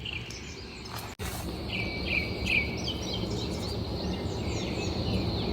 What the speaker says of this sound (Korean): 이렇게 아름다운 새소리가 매일 이렇게 나는데